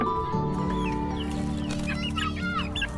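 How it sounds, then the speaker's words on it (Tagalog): Chicks cluck and peep eagerly while feeding, several birds calling over one another close by amid a steady background hum, with busy chirps clustering toward the end. "At mga sisiw yan, sabik silang kumain"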